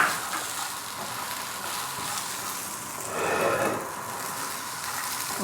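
About three tablespoons of raisins roast with dry fruits in a pan for sheer khurma, giving a steady frying sizzle and crackle. A louder, fuller burst of sizzling rises briefly past the midpoint, then settles back.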